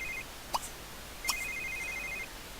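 A telephone rings in two short electronic bursts, the second longer, heard alone and at moderate distance over a quiet background hiss.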